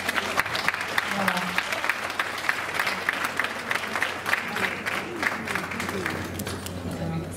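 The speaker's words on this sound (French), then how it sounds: "Applaudissez-les encore vraiment pour ce geste très concret" Sustained audience applause at a French charity event, following the presentation of a sponsorship cheque from the Lumière association, with many hands clapping densely and steadily throughout under a low hum.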